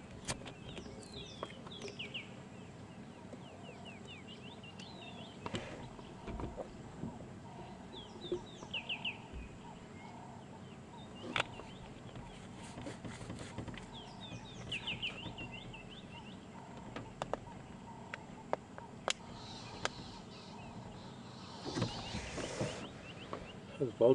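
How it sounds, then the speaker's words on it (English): Vultures squabble in a tree on an African safari drive at sunrise, giving scattered harsh squawks and chatter at a distance among other bird calls, faint and irregular over a steady outdoor background. "I can hear some squabbling. That sounds like more like a vulture than an eagle."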